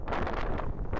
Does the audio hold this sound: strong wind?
yes